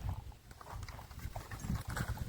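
Steady hoof clopping from a sturdy pair of bullocks walking in a village, a rhythmic, fairly close series of dull thuds with faint outdoor background.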